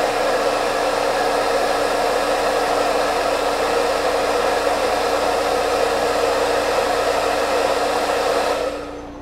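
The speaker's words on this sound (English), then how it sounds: "Just in case you didn't hear that over the hairdryer" A hair dryer blows continuously at close range, a loud steady whoosh with a faint whine, cutting off near the end.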